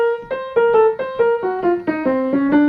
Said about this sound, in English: if I played swing eighths all with the same amount of accents, it would sound like this.